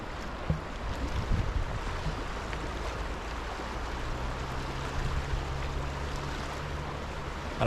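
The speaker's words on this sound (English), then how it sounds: "Look at the river flowing behind me." A river running high surges past beside a canal flight lock, making a constant loud roar of rushing water that fills the whole clip with no voices over it.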